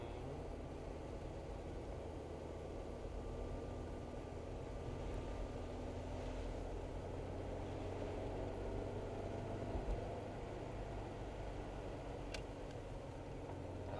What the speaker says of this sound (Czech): Aha, to je větrák, divný zvuky.